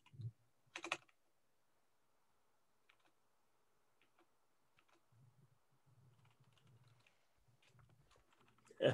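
Typing on a computer keyboard while building a real estate web page: scattered soft clicks and brief bursts of keystrokes, close and quiet, with long gaps between them.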